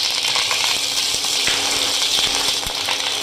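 Curry leaves dropped into hot oil with mustard seeds, tempering for spicy chicken 65: a steady, dense sizzle and crackle fills the clip, with small pops and ticks scattered throughout, close and fairly loud, no voices.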